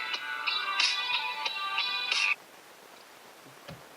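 A Bluetooth hands-free kit fitted to an old car radio plays a pulsed, electronic call tone in short repeated bursts for about two seconds, then cuts off to near silence.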